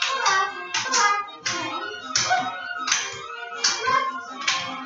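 Hands clapping in a ballet and tap dance class, a steady series of sharp, evenly spaced claps counted out in rhythm, loud and close with no talk over them.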